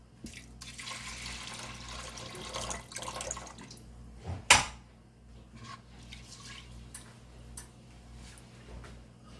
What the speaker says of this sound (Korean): 콩나물 삶은 물로 이제 밥물을 잡아요.